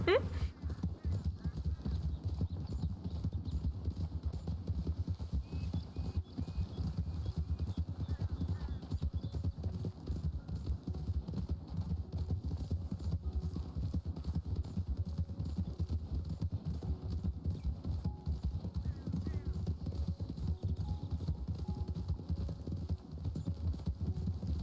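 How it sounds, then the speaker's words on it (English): A horse galloping in the Red Dead Redemption 2 video game, its hoofbeats a continuous muffled clip-clop running under a steady low background and occasional talk. "he thinks his horse is fast,"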